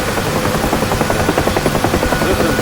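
A UH-1H Huey helicopter in the DCS flight simulator drones loudly and steadily, its rotor beating in a fast, regular chop throughout, with no voices.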